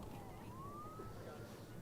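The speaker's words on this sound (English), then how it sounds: "I can hear the siren in the background." A faint ambulance siren wails in the distance outside a stadium during a homecoming high school football game, one slow rising tone over a steady background hum.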